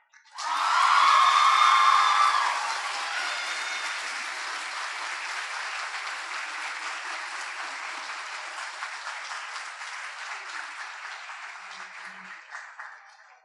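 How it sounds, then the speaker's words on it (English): A graduation audience gives a long round of applause with cheering and whoops, loud and dense in the first seconds, then settling into steady sustained clapping that fades out at the end. "Let's show appreciation with another well-deserved round of applause."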